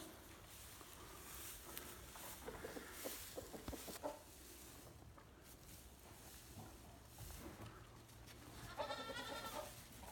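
Goats bleat faintly in a quiet space, scattered calls with soft shuffling, one longer wavering bleat near the end.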